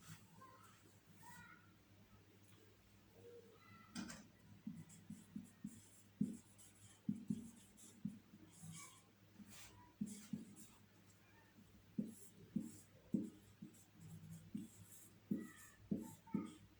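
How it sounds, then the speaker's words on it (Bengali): Pen strokes of someone writing the male and female symbols on a surface, soft scratchy marks in short bursts under a low background hum, with faint voices now and then. "প্রথমে আমরা পুরুষ আর স্ত্রী একটু লিখে দেখাই।"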